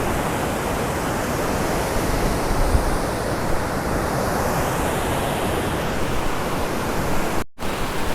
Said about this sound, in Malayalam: അപ്പോൾ കൈലാസം വെള്ളച്ചാട്ടം ഉണ്ട്,